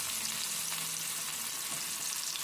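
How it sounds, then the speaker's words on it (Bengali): Chopped onion, added after minced garlic, fries in hot oil in a wok while being stirred for a potato bhaja, giving a steady, even sizzle that holds at a moderate level throughout. "পেঁয়াজটা হালকা ভেজে নিতে হবে পেঁয়াজটা একটু নাড়াচাড়া করে"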